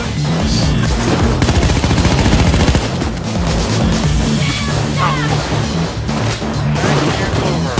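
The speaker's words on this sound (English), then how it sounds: "Is someone shooting this shield?" Loud, continuous automatic gunfire in Payday 2 pounds against a shield, dense rapid bursts of shots and impacts filling the whole stretch with barely a pause.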